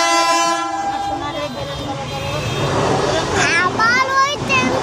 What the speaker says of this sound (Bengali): আবার ওই ট্রেনটা আসছে